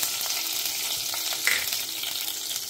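Cumin seeds dropped into hot oil in a home kitchen pan, giving a close, steady, crackling sizzle with small pops and a brief brighter spatter partway through.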